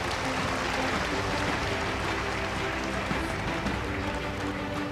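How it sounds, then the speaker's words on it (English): Audience applause fills a hospital awards ceremony, with steady, dense clapping from a large crowd sustained throughout at moderate loudness. "Ladies and gentlemen, a huge round of applause."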